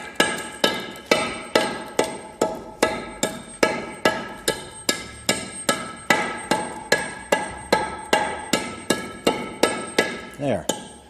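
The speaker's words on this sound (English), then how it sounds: "I'm going to break it down about a ½ inch or so, just enough to where 2 pieces of ½ inch steel can lay in along here." A hammer chips down a soft concrete hollow block with about two dozen sharp, evenly spaced strikes, roughly two per second, each ringing briefly, close and loud, with no talking.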